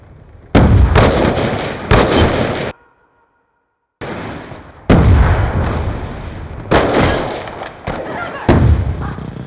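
In Black Ops II a sticky grenade is thrown and goes off amid gunfire, giving several loud, harsh explosive bursts in separate blocks with a short silent gap between them.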